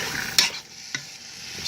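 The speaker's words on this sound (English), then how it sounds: "And it's almost immediate sizzle." Top round sirloin steak strips with chilies, onions, tomatoes, soy and spices in a hot Ninja Foodi, with a soft sizzle under a couple of sharp scraping stirs of the utensil against the pot, close and without talk.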